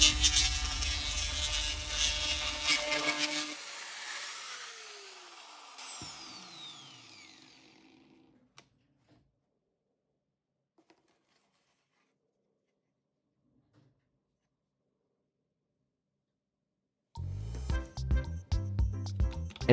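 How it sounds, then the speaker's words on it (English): An angle grinder fitted with two bolts cuts through plastic: a loud, dense whine for a few seconds that winds down and fades into silence, then a sharp burst of grinding returns near the end. "Just insert 2 bolts into the angle grinder as I show, and the plastic will cut very easily."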